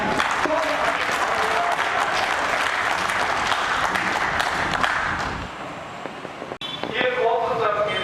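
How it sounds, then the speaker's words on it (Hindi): Loud, dense applause from a large crowd at a school Founder's Day celebration welcoming the chief guest, sustained for several seconds before fading, then a voice speaking over a public address system. "कृपया तालियों की जोरदार गड़गड़ाहट के साथ"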